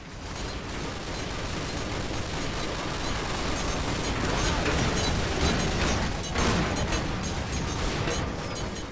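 Dense, sustained video game gunfire and explosive blasts fill a chaotic firefight, loud and continuous throughout with shouted voices mixed in.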